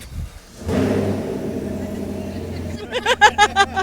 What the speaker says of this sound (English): It's going to be remote engine start as well.